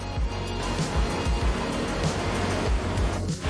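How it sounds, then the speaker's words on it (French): Many scooters stream down the Taipei scooter waterfall ramp, a dense continuous roar of engines and tyres that swells slightly as groups pass close by, with no break in the traffic. "J'espère que vous m'entendez malgré le bruit des scooters."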